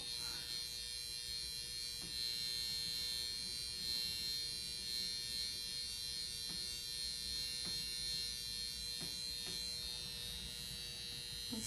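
Steady electric buzz from a NuDerma high-frequency skin wand held against the skin, a constant whine with a few faint crackling zaps, running alone throughout.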